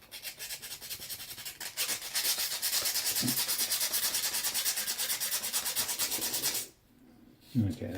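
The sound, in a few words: sandpaper sanding rust off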